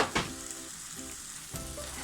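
Sliced onions dropped into hot oil in a pan for Thalassery-style prawn biryani, a close hiss with two sharp bursts of stirring and scraping, no talk.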